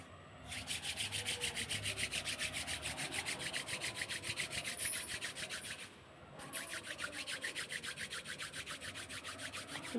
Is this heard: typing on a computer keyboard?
no